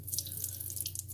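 Dirty water from a Hoover PowerDash carpet cleaner tank pours into a sink, a steady close splashing trickle with brief drips, faint and with no talking.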